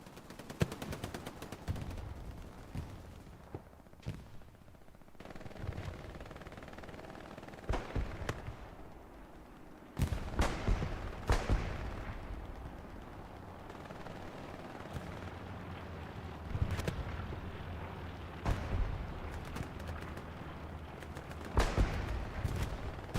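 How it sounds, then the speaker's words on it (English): A Browning machine gun fires in the World War II shooter Hell Let Loose, its bursts cracking out amid scattered distant shots and booming explosions over a low rumbling battlefield backdrop. "Just listen. That's the power of the Browning machine gun right there."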